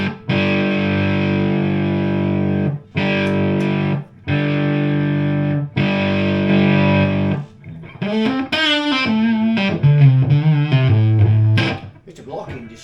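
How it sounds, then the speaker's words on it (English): Loud, heavily overdriven Fender '57 Custom Champ tube guitar amp, cranked into blocking distortion: sustained distorted chords broken by brief gaps, then a run of gritty single notes with a compressed, saturated tone. "Bit of blocking distortion going on there."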